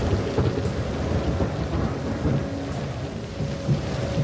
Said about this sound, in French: l'avion vole maintenant sous une pluie battante